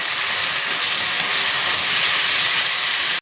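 Ginger-chili paste and chopped tomato masala sauté in hot oil as a steady, loud, hissing sizzle that holds evenly from start to finish.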